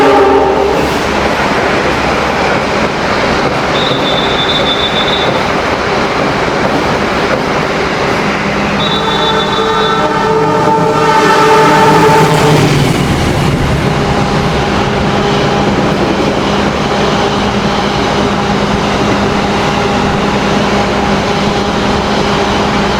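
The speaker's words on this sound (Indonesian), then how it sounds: "Wah, ini kayaknya ada 2 kereta api nih saling papasan." Two trains pass each other on a railway in a loud, continuous rumble, heard from inside an economy-class train carriage. Steady wheel and carriage roar runs throughout, with a brief horn tone twice and a surge as the other train goes by.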